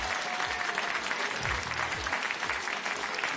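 A studio audience on the French TV game show Mot de Passe claps steadily for the full few seconds. The applause is even and crowd-wide, with no voices above it.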